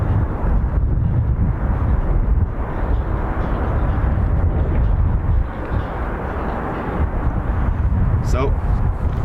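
Antonov AN-26B turboprop climbing away from Dublin Airport, a loud continuous engine rumble with gusting wind buffeting the microphone and a brief dip midway before the roar returns.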